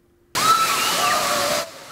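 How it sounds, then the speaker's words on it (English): Rushing, splashing water fills an indoor water park at Great Wolf Lodge in LaGrange, Georgia, a loud, broad roar that starts abruptly and cuts off after about a second and a half. "It's the area's newest water park."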